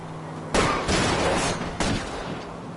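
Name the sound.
gunshots during a car chase in video game L.A. Noire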